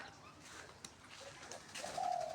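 Pigeons cooing nearby in a household setting, a soft throaty coo swelling over about two seconds above light outdoor background noise, with no one talking.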